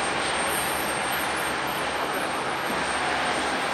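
A jet airplane roars steadily at Fukuoka Airport, heard from an open-top bus on the apron as a continuous, loud broadband engine rush with no pauses.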